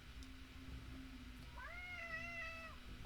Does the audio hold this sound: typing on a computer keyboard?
no